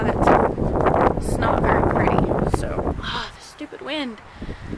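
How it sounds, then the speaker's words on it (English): Outdoors, wind buffets the microphone in heavy low rumbling gusts for about three seconds, then eases off while a voice speaks. "So, the stupid wind."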